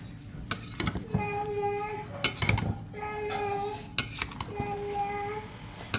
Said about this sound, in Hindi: अब इसको करना है हमने मिक्स।